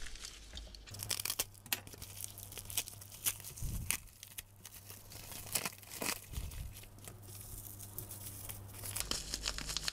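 A very thin, nearly weightless plastic parcel shipped from Latvia is torn open close by, with crinkling and tearing bursts of plastic over several seconds and no talking.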